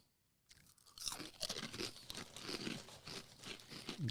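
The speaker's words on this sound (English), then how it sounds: "ASMR can like hear you chewing" Crunchy snacks being chewed close to the microphone, a dense run of crackling crunches with crinkling bits, quiet at first, then steady and continuous after a brief silence.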